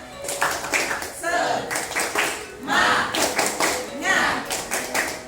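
Junior high school students in a library do a rhythmic spirit clap: a sequence of patterned, closely spaced clap bursts in a steady cadence, with voices calling along between them.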